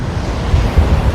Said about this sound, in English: the wind is why we have such cool waves today